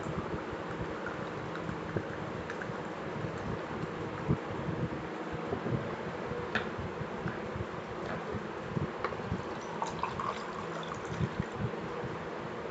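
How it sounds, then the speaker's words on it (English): Water poured out of a bottle down a sink drain, a steady broadband splashing and gurgling that runs continuously and fairly close, with small bursts over the flow and no talk. "Now I'm removing the water from the bottle."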